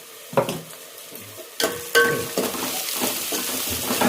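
Turmeric being stirred into a frying pan for chicken curry, a low sizzle under scattered metal spoon clinks and scrapes against the pan, close and moderately loud with no talking.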